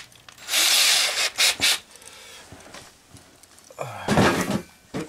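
A power drill whines loudly in two bursts, grinding straight through a house wall, with quieter rubbing and handling noises between them.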